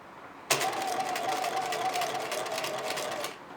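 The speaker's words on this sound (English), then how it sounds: "we can sew right across the entire pin" A sewing machine stitches fabric binding straight across pins, starting abruptly and running in an even, continuous hum for about three seconds before stopping, close by with no talk.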